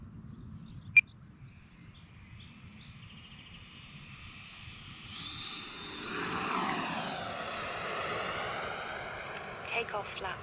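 An FMS 80mm Rafale RC electric ducted-fan jet makes a slow pass, its whine faint and distant at first, then swelling into a louder whooshing roar as it comes closer, with a sharp brief click near the start.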